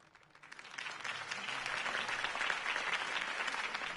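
Crowd applause after a campaign speech, starting softly and quickly swelling into steady, dense clapping from a large audience that holds through to the end.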